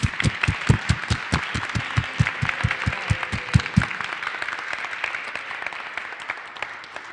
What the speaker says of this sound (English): Could we have a round of enthusiastic, heartfelt applause for our scouts?